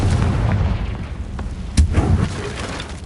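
The Confringo blast spell in a wizarding video game lands as a loud, sudden explosive boom over a dense, rumbling background of game sound, standing out as one sharp burst in the middle.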